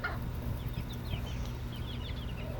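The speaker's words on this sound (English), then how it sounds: "the bigger hens are more interested in the hornwort, and the smaller chicks are more interested in the easier to eat rice and chicken feed" Hens and chicks on a fish farm cluck softly while pecking at hornwort, with scattered high chirps over a steady low background hum and no talking.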